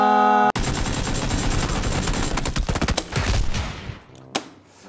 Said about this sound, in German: Da kommt die Shotgun ins Gesicht.